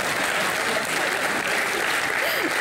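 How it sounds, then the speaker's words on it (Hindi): Brief, continuous audience applause in a television studio, a dense steady clatter of many hands at an even level for the whole moment, with some voices faintly in the background. "तालियां मारो बेटी के लिए।"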